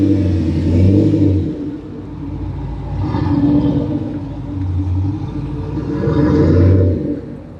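Australian cars rev at an Australia Day car meet outside the Ace Cafe in London, their deep rumbling engines swelling loudly and close by in three separate rises before easing back between each.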